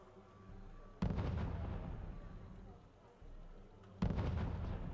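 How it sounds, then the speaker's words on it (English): Smoke mortars fire in the Wargame Red Dragon video game, with two heavy booming bursts that each roll into a long rumbling tail. A softer thump comes in between, and a voice talks faintly under the blasts. "smoke mortars, firing onto that point"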